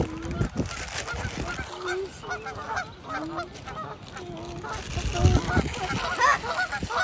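Geese honking loudly as they fly overhead, a chorus of repeated calls close by with rustling outdoor noise and people talking underneath.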